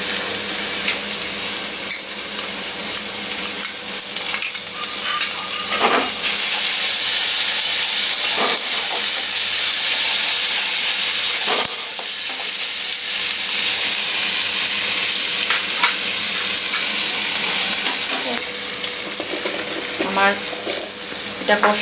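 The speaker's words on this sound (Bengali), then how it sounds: "এবার আমি আদা রসুন পেস্টটা দিয়ে দিচ্ছি।" Onions with ginger garlic paste fry in a pan, giving a continuous loud hiss and sizzle with occasional scraping stirs and small clinks throughout.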